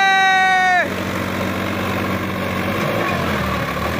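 A Sonalika DI 50 tractor engine labours under heavy load, starting with a loud rising harmonic drone that drops off into a rough, low rumble, with voices faintly in the background.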